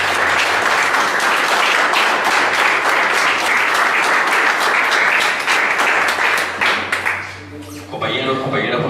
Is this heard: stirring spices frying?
no